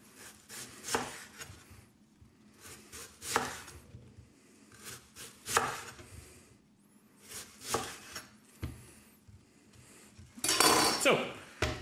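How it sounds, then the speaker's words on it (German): A knife chops an onion into cubes on a cutting board in a series of sharp, clustered knocks and taps with short pauses between them, plus a few clinks of kitchenware and a louder burst near the end. "Und man hat eine Zwiebel in Würfeln geschnitten."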